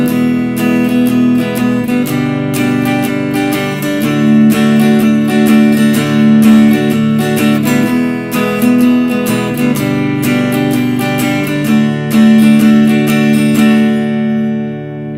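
Acoustic guitar strums the verse chords of a song, starting on D, in a swung eighth-note rhythm, loud and close with chord changes heard throughout and no voices.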